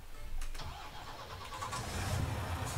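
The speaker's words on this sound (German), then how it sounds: "Schnappen wir uns einen LKW." In the farming game Landwirtschafts-Simulator 19, a truck engine cranks and catches, then settles into a low rumbling idle that swells slightly louder toward the end; the sound is soft and heard on its own.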